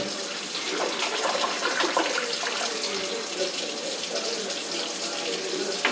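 Revolver parts from a black powder revolver are rinsed under a running warm tap, a steady close hiss and splatter of water against metal in a sink, continuous for the whole stretch.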